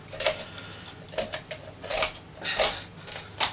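Several crisp snipping crunches of poultry scissors cutting down a chicken's spine, in an uneven rhythm of close, distinct cuts.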